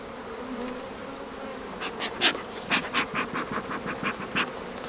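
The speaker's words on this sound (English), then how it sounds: "I just brush the bees away with my finger." Honey bees buzzing near and loud during a hive inspection of a newly installed nucleus colony, a steady hum broken by a series of sharper buzzing pulses as bees fly close.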